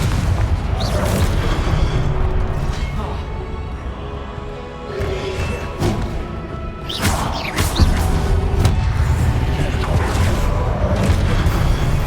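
Spell explosions in Hogwarts Legacy combat, repeated booming blasts and crashes with sharp impacts scattered through the stretch, loud and layered over a constant game background with a voice calling out spells.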